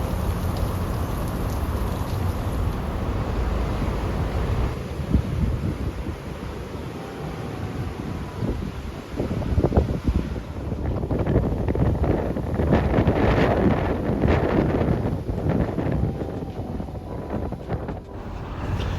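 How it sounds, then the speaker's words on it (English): Steady rain and gusting wind on a stormy day by the sea, loud and continuous throughout, with heavy wind buffeting the microphone and swelling in strength partway through. "Definitely a stormy day."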